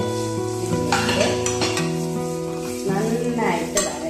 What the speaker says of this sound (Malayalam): 2 ടീസ്പൂൺ മുളക് പൊടി നന്നായിട്ട് വരട്ടുക. വരട്ടിയതിന് ശേഷം നമ്മൾ കഴുകി തയ്യാറാക്കി വെച്ചിരിക്കുന്ന മുരിങ്ങയ്ക്ക